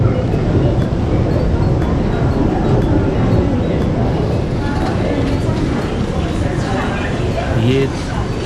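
A Singapore MRT metro train on the Downtown Line at a platform, a steady loud rumble and whoosh throughout with faint clinks, and a voice speaking over it.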